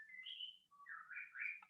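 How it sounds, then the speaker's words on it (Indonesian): A pet bird in a home chirps nearby in a quiet room: a few clear, whistled tweets and rising trills in quick succession, moderately loud, with no talking. "Aduh, berisik ya tuh burung."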